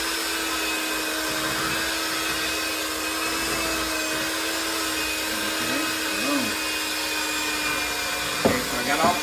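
Electric mixer beating cake batter for bundt cake muffins, a steady whirring motor drone that runs throughout, with a brief clatter near the end.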